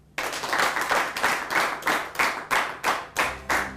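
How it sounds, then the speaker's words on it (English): An audience at a school debate in Adamawa State claps together in a steady, rhythmic unison, with regular loud beats that continue evenly throughout. "let's give them another round of applause"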